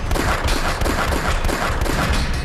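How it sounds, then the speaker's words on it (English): Rapid bursts of gunfire crackle in quick succession, loud and dense, with overlapping shots and echoes and no voices. "Then I heard some gunshots."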